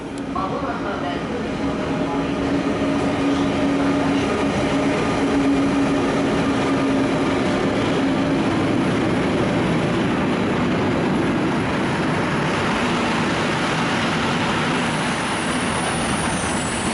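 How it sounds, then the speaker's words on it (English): An ÖBB Eurosprinter electric locomotive hauls a freight train past a busy station platform in Budapest, a steady loud rolling rumble with a humming drone that swells and stays close for the whole stretch. "here's another Eurosprinter. This one is a ÖBB freight service."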